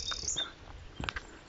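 A song thrush sings short, separated high phrases outdoors, fairly faint against a quiet background, with a few brief notes from other birds and no talking.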